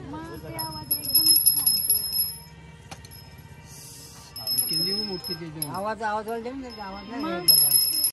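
A small bell jingles in quick repeated bursts at the start and end, while people talk loudly over it.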